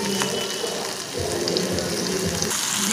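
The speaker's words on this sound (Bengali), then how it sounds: "এইভাবে প্রথমে টমেটোটা আমরা একটু ভেজে নেব।" Tomato frying in a pan gives a soft, steady sizzle with faint crackle, continuous and close, with no voices.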